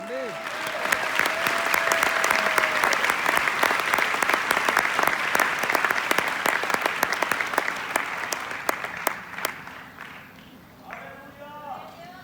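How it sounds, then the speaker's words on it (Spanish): Church congregation applauding during a sermon, a sustained wash of clapping with sharp individual claps standing out, tapering off near the end as voices begin to come through. "¿Alguien puede dar un aplauso al Señor?"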